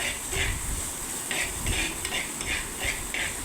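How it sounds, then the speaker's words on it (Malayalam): Crushed shallots, ginger and garlic fry in oil in a pan as a spoon stirs them, with steady sizzling and rhythmic scraping clinks against the metal, close and alone. "ചെറിയുള്ളിയും കൂടെ ചേർത്ത് കൊടുത്ത് നന്നായിട്ടൊന്ന് ഇളക്കി കൊടുക്കുന്നുണ്ട്"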